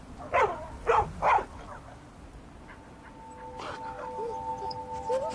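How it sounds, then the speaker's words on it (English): A dog in the video game Skyrim gives three sharp, fairly close barks in quick succession, then falls into thin, drawn-out whimpers over a low background rumble. "Is that the same dog?"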